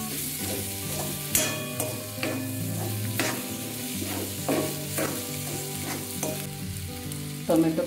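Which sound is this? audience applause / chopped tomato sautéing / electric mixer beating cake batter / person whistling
chopped tomato sautéing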